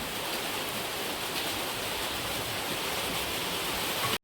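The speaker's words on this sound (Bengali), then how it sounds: "এই দেখো বৃষ্টি হওয়া শুরু হয়ে গেছে।" Steady light rain, a fine drizzle falling outdoors from a cloudy sky, makes a continuous even hiss that holds at the same level throughout, with no voices, until it cuts off abruptly at the very end.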